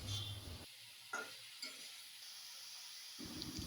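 Cut taro stems and potato with turmeric and salt fry in a pan, a soft, fairly faint sizzling hiss broken by a few light scrapes and clinks of stirring.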